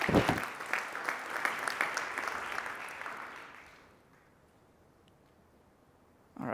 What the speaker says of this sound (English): So please give a warm applause to Zach Leatherman.